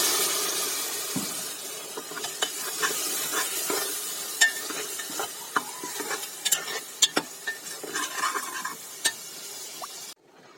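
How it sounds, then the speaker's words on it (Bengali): Spices for khichuri frying in a pan with a little water while being stirred, a soft sizzle beneath repeated sharp scraping and clinking strokes of a spoon against the pan, close and without talk. "মশলাটা ভালো মতো কষানো শেষ।"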